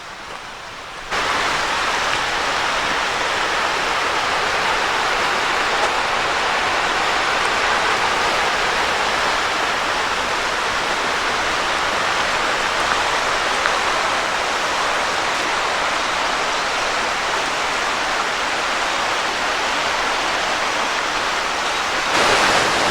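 Creek water rushes and gurgles steadily close by along a side trail at Tom's Creek in the Delaware Water Gap, a dense, continuous broadband wash with no talk over it.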